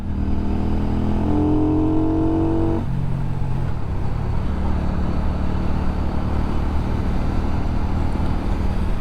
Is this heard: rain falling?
no